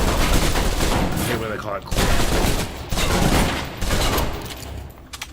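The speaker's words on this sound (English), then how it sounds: "Now let's empty the clip. Let you get a feel for the recoil." An MP7 submachine gun in the Alpha Protocol video game fires sustained bursts to empty its magazine, loud, rapid and close, with someone talking briefly over the gunfire.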